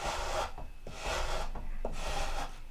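A sander rubbed over a wooden edge and rolled around the corner, three long rasping strokes of rough scraping, close and alone, each lasting under a second with brief pauses between.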